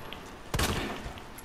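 A single sharp gunshot from a pistol in the video game Resident Evil 2 remake, one loud broadband crack with a brief decaying tail over quiet game ambience.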